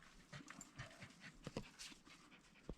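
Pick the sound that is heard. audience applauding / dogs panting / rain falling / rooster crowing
dogs panting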